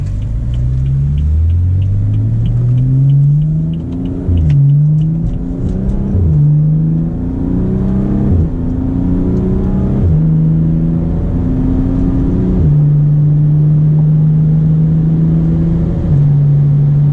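A BMW F30 accelerates hard on the road, its engine note climbing steadily through repeated rising sweeps with brief dips at each gear change, loud and continuous throughout with no talking.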